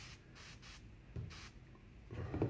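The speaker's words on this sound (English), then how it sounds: "I'm just going to spray this quite heavily" Suede shampoo is sprayed heavily onto a bespoke buckskin George Cleverley shoe made in 1973, heard as about four short, soft hissing spray bursts, faint and close, followed by light rubbing.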